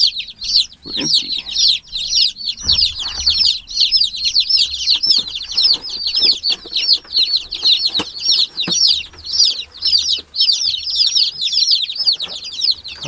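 A crowd of newly arrived fall chicks peeps continuously in dense, high, overlapping chirps, close and loud throughout, with occasional soft bumps and handling noises beneath.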